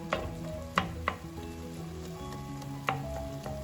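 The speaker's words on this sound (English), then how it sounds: "Just keep stirring it and keep breaking up the meat." Ground turkey meat sizzles steadily in a pot for turkey chili soup while a spoon breaks it up, with several sharp scraping clicks over a low, even frying hiss, close and moderately quiet.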